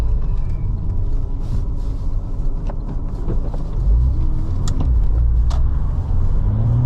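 A Porsche pulls away at low speed, its engine a steady, fairly loud rumble with a low drone running throughout and a few light clicks and knocks over it, with no talking.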